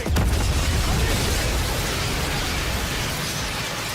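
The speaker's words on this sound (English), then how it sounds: "They all felt that explosion" A big explosion from the 007 First Light video game trailer opens with a loud burst, then a dense, roaring rumble holds steady for several seconds with no talk over it.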